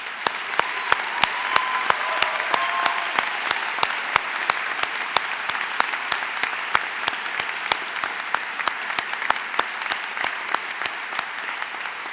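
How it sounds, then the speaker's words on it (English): Sustained audience applause at a medical school white coat ceremony, a dense even patter of many hands clapping in a large room, steady for the whole stretch with no voices over it. "Please join me in one more round of applause for the class of 2021."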